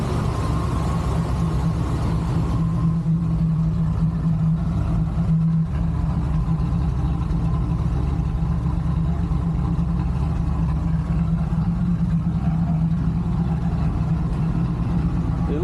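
A Chevelle's engine, cold-started on a 20-degree day and running a little rich, idles steadily with a low, rumbling drone that holds constant throughout.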